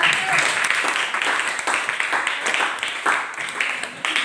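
A classroom group applauds, a dense patter of hand claps with uneven bursts running steadily throughout at moderate level.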